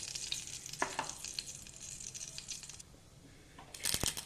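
Mustard seeds crackle and sizzle in hot oil while jackfruit palya cooks, a busy hiss with sharp popping bursts near the start and again at the end, close and unaccompanied by talk.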